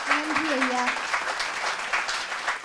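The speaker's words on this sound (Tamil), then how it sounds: "ஒரு அரங்கு நிறைந்த பாராட்டு" Applause filling a hall as an audience claps steadily, a dense continuous patter with a voice briefly audible over it near the start.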